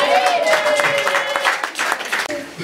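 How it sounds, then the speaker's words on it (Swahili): An audience at a school or church gathering applauding, a dense steady wash of clapping with a sustained voice or cheer running over it, close and loud. "makofi kwake"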